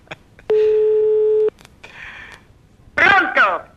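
Telephone keypad tones sound in short steady beeps: one long tone, then a couple of briefer ones, followed by a voice speaking over the line.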